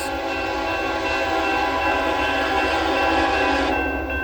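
CSX freight train C780 rolling past on the B&O old main line, a loud, close, continuous rumble with a sustained tonal whine from the locomotive, steady throughout with no voices.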